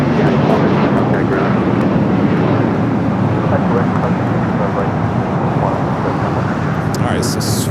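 Loud, continuous jet roar from a United Boeing 757-300 at Los Angeles airport, a dense, close engine wash holding steady throughout with no talk.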